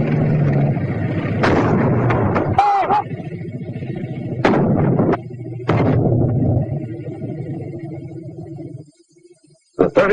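A 37 mm anti-tank gun fires at a tank in several sharp, booming reports separated by seconds, each with a short rumbling tail, over a steady low drone of old wartime film audio.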